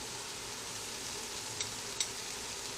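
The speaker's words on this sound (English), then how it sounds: "I will add my shallots at this point" Shallots go into a pan of browned mushrooms frying in oil and butter for chicken marsala. A steady, close sizzle hisses without pause, with two faint clicks of a utensil.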